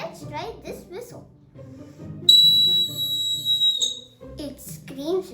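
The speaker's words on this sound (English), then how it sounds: "Now, let's try this whistle." Antique tin toy whistle giving one piercing, steady high scream of about a second and a half, with talking before and after it.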